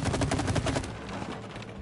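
Rapid machine-gun fire in the video game It Takes Two: a loud, fast stream of shots for about a second that then stops, leaving a fading rumble.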